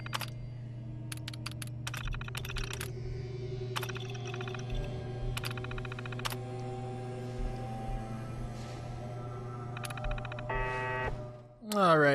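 Keys clatter on a computer terminal in Fallout 4 in several quick bursts of typing over a low steady hum. Soft beeps sound between the bursts, and a voice talks over part of it.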